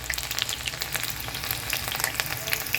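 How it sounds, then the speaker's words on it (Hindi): A small chopped onion fries and browns in hot oil for a Uttar Pradesh urad gosht: a dense, even crackling sizzle, close and constant throughout, with no voices. "अब हम इसमें 1 छोटी प्याज हमने काटी है, इसको डाल देंगे। प्याज डाल के हमें इसको ब्राउन करना है।"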